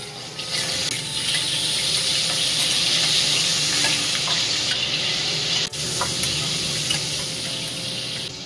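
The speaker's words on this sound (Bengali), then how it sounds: "প্রথমে ভাবছি কি পরিষ্কার কড়াইতে একটু চিংড়ি মাছটাই আগে করে নিই।" Shrimp coated in salt and turmeric sizzle and crackle steadily in a hot kadai, a constant bright hiss that stays close and loud for several seconds with no voices.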